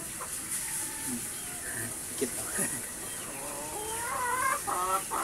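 A Brahma and native crossbreed chicken clucks in short, irregular bursts nearby, with a few squawky calls building toward the end over faint background noise.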